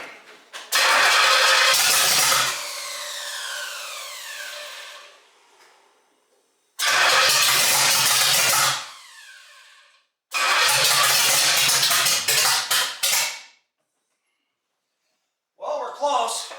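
A 1968 Pontiac GTO's engine cranks over in three loud bursts of several seconds each, separated by silence, after a complete drivetrain rebuild, with a final short crank at the end and some talking around it.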